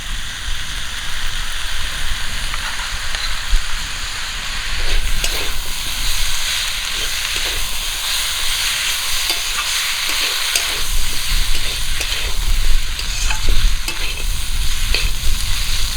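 Bengali greens (dhenki shak) and potatoes frying in a pan with hand-ground cumin and mustard paste, a loud, continuous sizzle with occasional scraping stirs throughout, and no talk.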